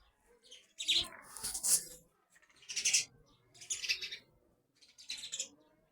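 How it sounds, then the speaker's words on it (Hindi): Birds chirp overhead outdoors at a home during egg-laying season, in four or five bright bursts of high tweeting separated by short pauses, fairly close and clear with no talk. "चिड़िया सर पर मंडरा रहे हैं"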